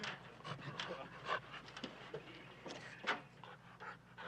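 A dog pants quickly and steadily up close, soft rhythmic breaths with a faint whimper, while a person speaks quietly nearby.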